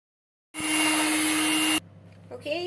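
An old electric mixer whips egg whites, a steady, loud whirring drone that runs for about a second and stops abruptly, followed by faint clatter and a brief voice.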